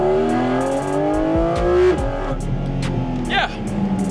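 A 2023 Porsche 718 Cayman GT4RS engine revs loudly and climbs in pitch, then drops off near the two-second mark before settling into a rougher drone, close and unbroken, with no voices.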